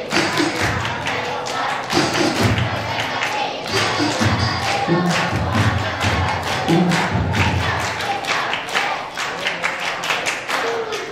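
Madrasah aliyah students in a da'i and Quran-school training session perform the 'tepuk anak saleh' clapping chant: steady rhythmic group claps and thumps under loud chanted voices, dense and continuous.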